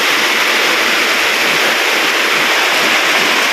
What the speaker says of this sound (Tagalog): malakas ang ulan no?